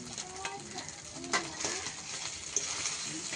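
A spice paste of ground ginger and chili fries in a pan, giving a soft steady sizzle under scraping stirs and occasional light metallic clinks, fairly close and moderately quiet.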